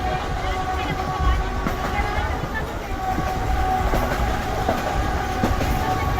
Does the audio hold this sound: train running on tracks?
yes